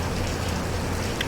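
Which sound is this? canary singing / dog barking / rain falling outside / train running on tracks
rain falling outside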